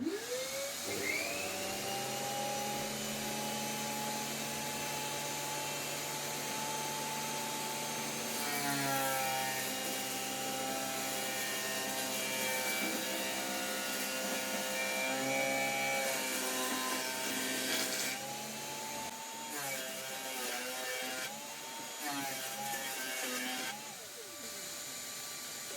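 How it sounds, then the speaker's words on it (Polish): A vacuum cleaner with a barrel cyclone separator runs steadily and loud for the whole stretch, its motor whine shifting in pitch as suction changes, close by with no talking. "Ten odkurzacz jest minimalnie słabszy"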